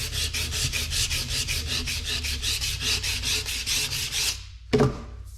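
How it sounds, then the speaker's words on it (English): Steady rhythmic rasping strokes of hand sanding in a cross-hatch pattern on a custom sheet metal hood molding, close and continuous for about four seconds, then a pause and one short final scrape, with no talking. "So you can cross hatch, sand this way and then this way"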